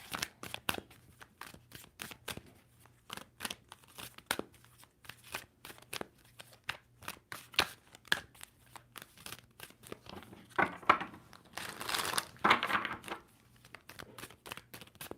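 A deck of tarot cards being shuffled at close range: a long run of quick, crisp riffling flutters and papery snaps, with a louder burst of riffling near the end.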